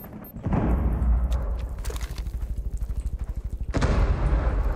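Explosions and gunfire in Rainbow Six Siege: loud booms open the stretch, followed by a long rapid burst of automatic fire with evenly spaced shots, then another heavy blast, all loud and close.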